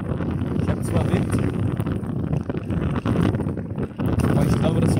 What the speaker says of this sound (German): Ich habe zwar Wind,